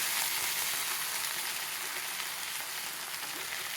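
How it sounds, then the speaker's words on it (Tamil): Fish shallow-fries in coconut oil, making a steady, dense sizzle up close that runs without a break and has no voices over it. "நான் இந்த ஃபிஷ்ஷை வந்து தேங்காய் எண்ணெயில் ஃப்ரை பண்ணுறேன்."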